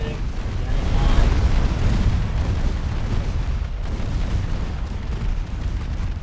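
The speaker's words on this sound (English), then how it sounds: "Destroyer just fired at my battleship" Naval gunfire from the Ultimate Admiral Dreadnoughts warship game, with a destroyer shelling a battleship. Low, rolling booms blend into a continuous distant rumble with no clear separate shots.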